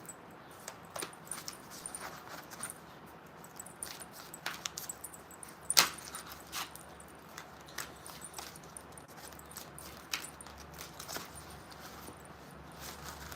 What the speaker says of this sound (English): Sorry for shuffling so much.